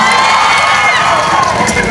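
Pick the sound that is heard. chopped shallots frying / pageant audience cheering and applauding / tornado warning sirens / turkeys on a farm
pageant audience cheering and applauding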